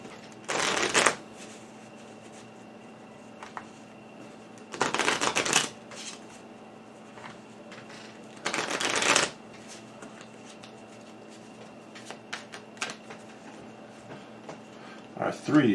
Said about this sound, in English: give this a good shuffle